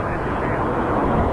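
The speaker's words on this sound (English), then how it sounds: "behind this little Cessna, there's a Porter 195 coming into runway 23" Aircraft at Toronto Pearson airport, a small Cessna with a Porter airliner arriving behind it, make a steady broadband roar, constant and fairly loud throughout the short stretch.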